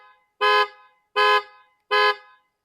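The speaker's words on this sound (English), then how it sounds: "As expected, sets off the panic alarm." Panic alarm on a 2016-2019 Ford Police Interceptor triggered from the key fob: three loud, evenly spaced horn honks, each about a quarter second long, with short silences between.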